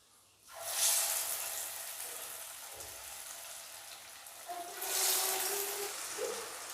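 Cassava vada batter drops into hot oil and fries, a soft hissing sizzle that swells as each portion goes in, with faint bubbling and a brief clink between, fairly quiet and without speech.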